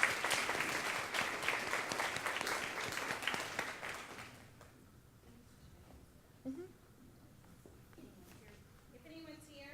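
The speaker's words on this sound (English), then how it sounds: "A big applause for all of them." An awards-ceremony audience claps for the nominees, a dense burst of applause that fades after a few seconds to a quiet room with scattered sounds.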